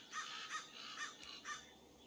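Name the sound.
crows cawing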